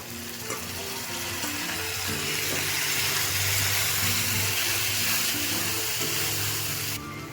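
Fish head spice masala sautéing in a pan for a moong dal dish, a continuous close sizzle with scraping stirs of a spatula throughout, loud and steady with no talk.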